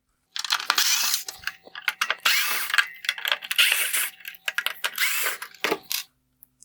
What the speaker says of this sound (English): I will begin by removing the T20 screws holding on this outer bezel.